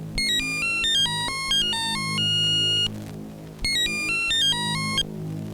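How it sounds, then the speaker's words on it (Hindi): A telephone rings with a bright, electronic melodic ringtone in two bursts separated by a brief gap, over a low background hum, with no talking. "फोन उठाइए।"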